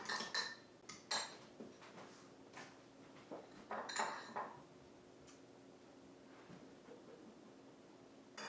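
A utensil clinks and scrapes against a bowl while pink food gel is mixed into deviled egg filling, in irregular close taps and scrapes with quiet pauses between.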